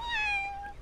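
A cat in the video game MapleStory 2 gives one clear, bright meow, close and alone, rising then gently falling in pitch.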